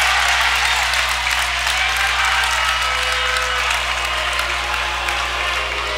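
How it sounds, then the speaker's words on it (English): Crowd noise at a high school boys' basketball game in a gym, a mixed roar of cheers, boos and murmurs reacting to an offensive foul call, sustained and fairly loud over a steady background hum. "Mixed emotions from the crowd."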